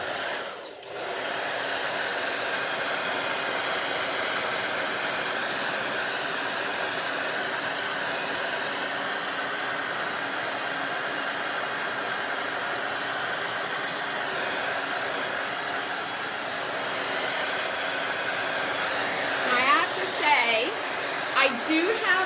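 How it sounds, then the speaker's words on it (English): A hair dryer blows in a steady, loud whoosh to dry milk paint on an antique child's chair, running continuously with a few faint handling noises near the end. "So I am safer with a blow dryer."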